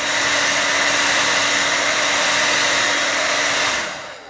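A hair dryer blows steadily on a fabric M31 bread bag, a loud, close, continuous roar that holds for nearly four seconds before winding down.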